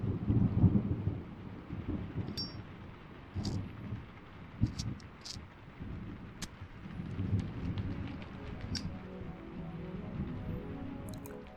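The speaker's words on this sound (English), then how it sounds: "we keep the falling rain that's heard in the first track, but we kind of dampen it, add a bit of thunder" Steady, muffled rainfall with low distant rumbles of thunder rolling through, a continuous soft wash with occasional brighter drips and cracks, no voices.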